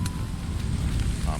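A player character is set on fire in the video game Stay Out, with a close, steady crackling roar of flames running alongside speech.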